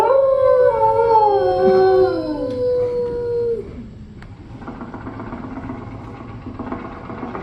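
A dog howls in a Disney World attraction show, a long wavering howl with falling pitch lasting several seconds, followed by a lower background hum and murmur.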